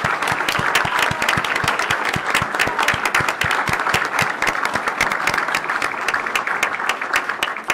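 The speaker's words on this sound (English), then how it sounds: "So I would love for y'all to stand one more time for a huge round of applause for you all." A large audience at a board meeting gives sustained, loud applause for parents and families, with many sharp individual claps mixed into a continuous clapping wash that holds steady from start to finish.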